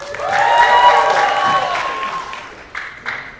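An audience at a Halloween show applauds and cheers for a costume contestant, with loud steady clapping and rising whoops that fade after a few seconds, followed by a couple of brief bursts.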